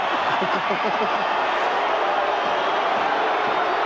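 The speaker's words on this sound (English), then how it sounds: "The crowd don't like it." Rugby league crowd at a 1991 New Zealand versus Australia test match roars in sustained disapproval after a disallowed try, a dense, loud wall of voices with commentary talk running over the top.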